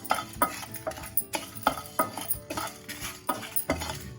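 Whole spices are dry-roasted and stirred in a kadhai, giving a steady run of metallic scrapes and clinks from the spoon on the pan, repeating about twice a second at moderate loudness.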